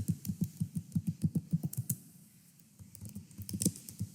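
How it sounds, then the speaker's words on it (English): Numbers are tapped on a computer keyboard in quick, even keystrokes for about two seconds, then a pause and a few scattered, slower presses. The clicks are close and clear. "I'm just going to type like numbers."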